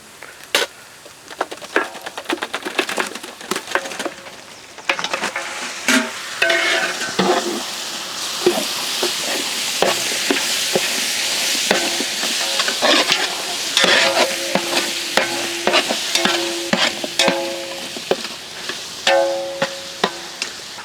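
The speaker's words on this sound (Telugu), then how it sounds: "మటన్ నూనెలో కొంచెం కలర్ మారేంత వరకు వేయించాక" Pieces of mutton fry in hot oil with garlic paste for a gongura mutton biryani, a constant loud sizzle broken by repeated scraping and clinking of a spoon stirring the pan. Nobody speaks.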